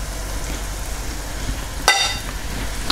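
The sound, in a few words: seasoned flour cooking in melted butter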